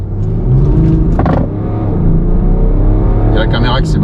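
A BMW X5 G05 30d diesel SUV in sport mode pulls away hard from a standstill, its engine drone rising steadily and loudly from inside the cabin while people talk over it.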